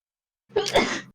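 A single sharp sneeze, close and fairly loud, alone in silence.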